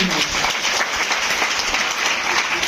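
Hearty applause fills a distributor meeting hall in Patna, a thick continuous roar of clapping from a large crowd, loud and close throughout.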